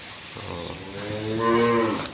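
A jumbo-sized Pegon cow gives one loud, close, drawn-out moo that rises and swells toward the end, heard alone with no voices.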